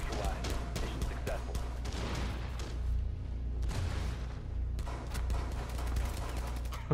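Gunfire in Tom Clancy's Rainbow Six Siege, with bursts of shots and booms over a dense, constant game din. Players talk throughout over the shooting.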